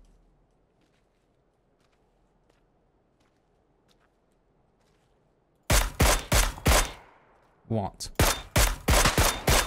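Automatic weapon fire in PUBG on the new map, in two loud, rapid bursts of sharp shots that start after a long quiet stretch, with one brief spoken word.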